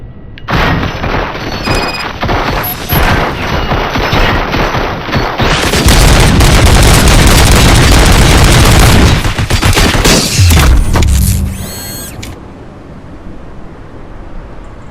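Heavy gunfire and booming impacts in the game RoboCop Rogue City, loud continuous volleys and explosions for most of the stretch before easing into a quieter rumble near the end.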